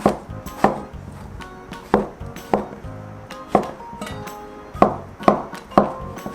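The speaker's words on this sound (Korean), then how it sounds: "이것도 먹기 뭐 좋게 썰어주시면 돼요" Knife slicing king oyster mushrooms on a cutting board for Korean beef and radish soup, about a dozen sharp chops in an uneven rhythm, close and clear with no talking.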